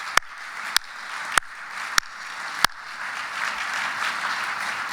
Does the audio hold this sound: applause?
yes